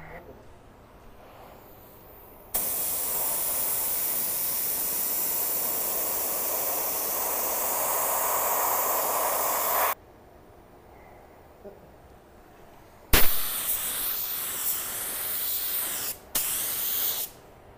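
A budget paint spray gun spraying in long bursts: a steady loud hiss for several seconds, a pause, then two shorter bursts.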